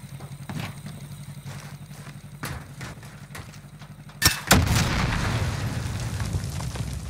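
Gunfire in Call of Duty Warzone, with a sharp loud burst of shots followed by a sustained louder rumble over a steady low engine-like drone, plus scattered fainter single pops earlier.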